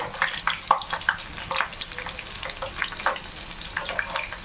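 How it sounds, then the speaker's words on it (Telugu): Soya chunk pakodis frying in hot oil, with a busy bubbling sizzle broken by bursts of crackle and spatter, probably as pieces are turned; close and moderately loud, without talk. "జాగ్రత్తగా తిప్పేసుకుంటే మళ్ళీ ఇటు సైడ్ కూడా మంచిగా కొంచెం బ్రౌన్ కలర్గా కాలుతాయి"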